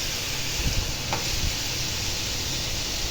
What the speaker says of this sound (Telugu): అదే నూనెలో కొంచెం వేరుశనగ గింజలు, కొంచెం తాలింపు గింజలు వేసుకొని పొట్లకాయ ముక్కలు వేసుకొని వేయించుకుంటున్నానండి